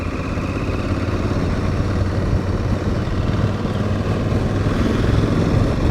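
An Aprilia Tuareg 660 adventure motorcycle climbs uphill, its engine a steady loud drone mixed with heavy wind rumble throughout, no break or change in pace.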